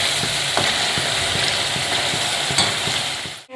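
Ingredients for green chickpea amti sautéing in hot oil, a continuous loud sizzle with rhythmic scraping and stirring strokes of a spoon against the pan, ending abruptly.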